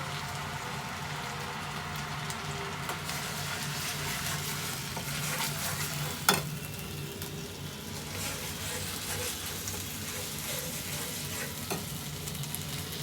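Onion, ginger and garlic paste fries in hot oil, a close, continuous crackling sizzle with stirring and one sharp clink of a utensil midway.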